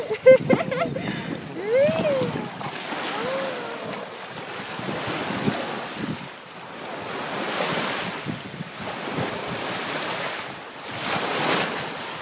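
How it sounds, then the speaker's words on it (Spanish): Sea waves wash onto a beach in long swelling surges, with steady wind buffeting the microphone and voices faintly audible now and then. "El mar."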